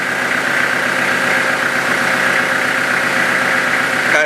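A Kubota tractor engine idles steadily and close up, a loud even rumble with faint rattling vibration throughout.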